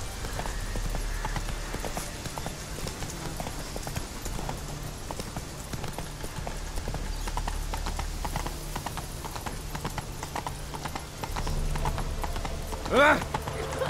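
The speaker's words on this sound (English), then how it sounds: "Run, Roach" Hooves of the horse in The Witcher 3 pound in a steady galloping clip-clop for the whole stretch, with a brief whinny near the end. Game sounds and a player's voice sit in the background.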